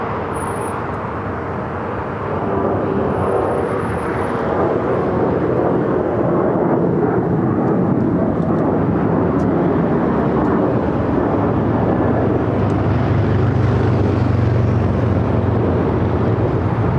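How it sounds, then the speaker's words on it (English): A loud, steady broadband roar of a Boeing 787 Dreamliner from Seoul arriving at Los Angeles LAX airport persists with no clear pauses, the rumble swelling slightly toward the end. "The Dreamliner coming in from Seoul, now heading to Tom and Bradley as well as Singapore."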